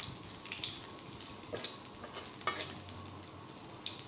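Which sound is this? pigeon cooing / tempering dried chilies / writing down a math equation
tempering dried chilies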